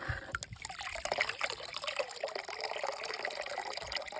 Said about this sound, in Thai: ตอนนี้ผมใส่ปั๊ม DC 12โวลต์นะครับ แล้วก็ดูดน้ำขึ้นมา